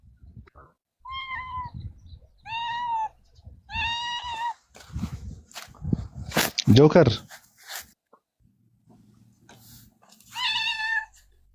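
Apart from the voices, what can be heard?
cat meowing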